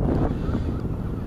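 Steady wind buffets an outdoor microphone on a humid, breezy day at a drone test flight, a loud continuous low rumble with no pauses.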